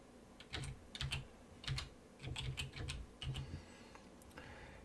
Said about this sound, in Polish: Tutaj w oknie wyszukiwania wpisujemy garbagę.